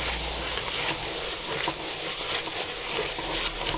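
Cornflakes being stirred into a melting marshmallow mixture for an Easter cornflake cake, producing a continuous soft sizzling crackle and scraping rustle, close and fairly even throughout with no talking.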